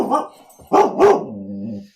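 Dog barking close and loud, a short bark followed by two strong barks that trail into a whimpering whine.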